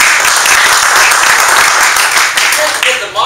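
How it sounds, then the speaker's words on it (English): A business presentation audience applauding loudly and steadily throughout, a dense wash of many hands clapping close by with some voices mixed in. "Give yourselves a big round of applause."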